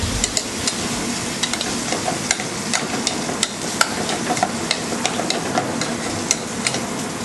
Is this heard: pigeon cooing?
no